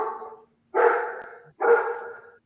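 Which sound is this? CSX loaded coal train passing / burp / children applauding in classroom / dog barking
dog barking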